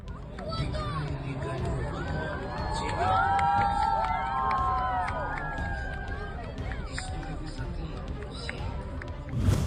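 A dense crowd fills a street in Derbent, Russia, with steady babble, shouts and cheering rising and falling throughout, loud and close, with occasional higher voices cutting through.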